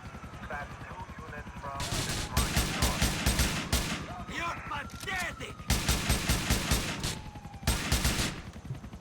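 Gunfire in GTA IV online: dense, rapid bursts of automatic shots in several loud volleys with short gaps between them, and a voice talking underneath.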